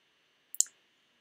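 A computer mouse clicks twice in quick succession, crisp, close and quiet, against a faint steady background hum.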